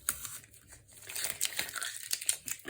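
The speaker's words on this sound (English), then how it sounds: "So let me just take the tape off this" Masking tape is peeled slowly off watercolour paper, producing a close crinkling, tearing rasp that grows louder and more uneven over a few seconds, with no talking.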